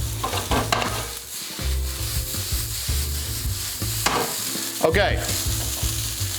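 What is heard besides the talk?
stir-frying rice, edamame, peas, garlic and ginger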